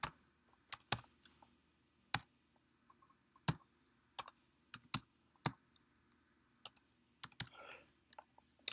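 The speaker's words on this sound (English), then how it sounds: "I'm going to type into the bar the IP address and see what happens." Keys clacking on a computer keyboard while an IP address is typed into a browser bar, with sparse, irregular close taps and short bursts separated by pauses, alone without talk.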